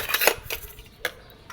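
A small toy cooking pot and spatula clink and tap lightly, with a quick cluster of faint metallic knocks followed by a couple of isolated ticks in a quiet room.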